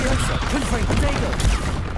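Confringo fire blast spell exploding in Hogwarts Legacy on PS5, a dense, loud burst of crackling blasts with a sharp broadband hit near the end, mixed with busy game sounds and voices.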